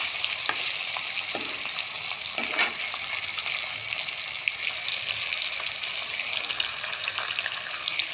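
Four pieces of katla fish, coated in chilli and raw oil, sizzle steadily in hot oil in a pan, a dense close hiss with a couple of brief spatters and clinks.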